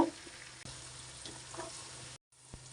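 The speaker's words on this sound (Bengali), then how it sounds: "রাজমাটা দিয়ে একটু ভালো করে ভাইজে নেব" Kidney beans frying with capsicum in a pan, a steady close sizzle with a few stirring clicks, briefly cutting out before resuming.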